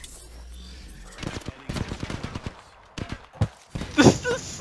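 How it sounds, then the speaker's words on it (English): Bursts of gunfire from the video game Apex Legends crack in rapid irregular volleys, sharp repeated shots clustered in short strings with brief pauses, loudest near the end. "It's hilarious, they're trying to shoot me."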